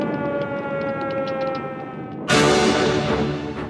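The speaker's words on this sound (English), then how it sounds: "And right there, we heard the air raid sirens." Air raid sirens in wartime Japan hold a steady mechanical wail with a droning tone, then surge abruptly louder and brighter partway through, sustained and fairly close with no talking.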